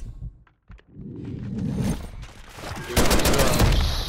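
Rapid bursts of fire from the JAK Jawbreaker rifle in a multiplayer shooter: a short volley, a brief pause, then a louder, sustained stream of close, sharp shots.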